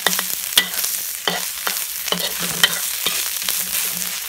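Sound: stir-frying spices for Thai fish larb

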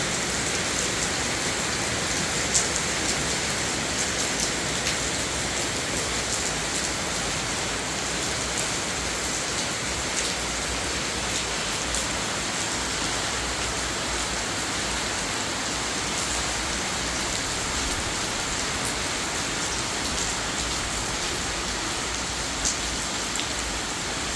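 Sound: rain falling in the morning

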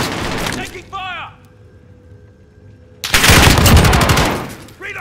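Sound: gunfire in video game Call of Duty Modern Warfare

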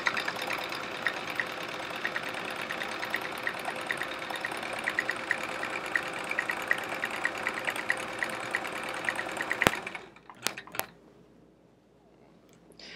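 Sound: sewing machine free motion quilting squiggles

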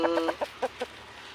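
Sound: chickens clucking

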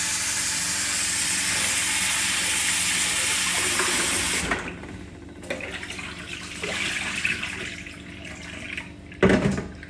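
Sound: rinsing rice under running water

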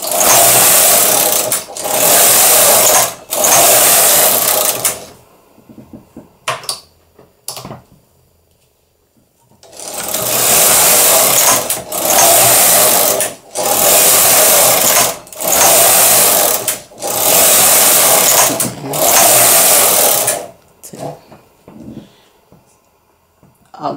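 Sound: SK280 knitting machine carriage knitting rows

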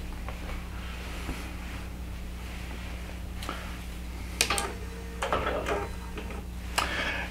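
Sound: computerized quilting machine moving to start, pulling up bobbin thread

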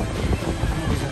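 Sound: wind

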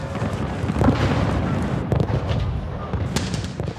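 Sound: artillery fire in a documentary reenactment

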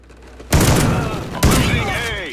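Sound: shotgun firing in a video game

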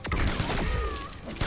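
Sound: gunfire in Mortal Kombat X video game

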